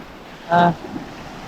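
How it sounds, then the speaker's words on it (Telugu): Sea waves wash against a shore at sunset, with a steady broad roar of surf and wind noise throughout and a brief louder burst near the middle. "అలలు చూడండి ఎట్లా కొట్టేస్తున్నాయో"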